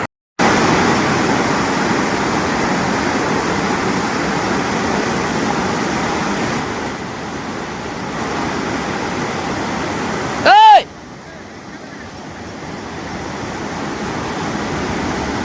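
A flooded village stream rushes over a submerged bridge, a steady loud roar of water heard close by, with a brief sharp knock near the end.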